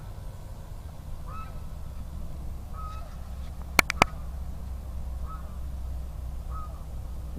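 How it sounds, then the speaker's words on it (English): Canada geese honk faintly in the distance, giving a few scattered calls over steady outdoor background noise, with two sharp clicks close by in the middle. "See some of the Canadian geese over there."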